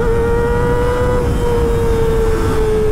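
Kawasaki ZX-R motorcycle engine held at a steady high-pitched rev, a loud continuous whine with a strong tonal buzz and no pauses, close up.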